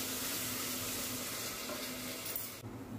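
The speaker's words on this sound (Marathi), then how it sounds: "हे सुद्धा आपल्याला व्यवस्थित तेलात असं परतवून घ्यायचंय." Spice masala sautéing in oil for a dried green peas curry makes a dense, continuous close sizzle that drops off suddenly just before the end.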